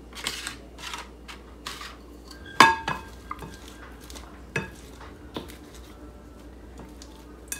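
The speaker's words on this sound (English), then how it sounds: "I just start to scoop that out and then I just put it into my bowls" Coleslaw is scooped from a pot into small one-cup plastic bowls, giving quiet, scattered clinks and scrapes of a utensil with one sharper knock partway through, and no talking.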